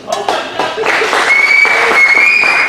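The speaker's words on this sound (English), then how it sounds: "Let's hear it by applause if you don't want to see it." Applause from a comedy roast audience rises quickly into loud, sustained clapping with some cheering and crowd noise, a steady whistle-like tone running through the second half.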